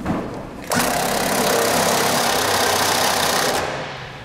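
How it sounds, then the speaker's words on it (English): A power tool with a 15/16 socket tightens gooseneck hitch bolts to the frame of a 2015 GMC Sierra truck, giving one loud, steady, whirring run of about three seconds that starts abruptly and then trails off. "Then we're going to tighten our bolts down to our frame. We're gonna use a 15/16 socket."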